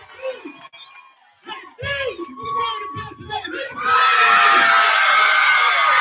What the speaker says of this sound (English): The Seafit fans are certainly going crazy in there.